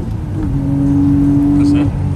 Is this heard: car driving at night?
yes